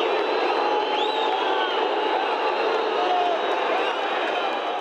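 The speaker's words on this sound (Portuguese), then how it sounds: "Uma sinfonia de vaias depois do apito final." Home crowd at a Bahia versus Sergipe Copa do Nordeste 2019 football match in the stadium, booing after the final whistle, a continuous loud roar of voices with scattered whistles and shouts throughout.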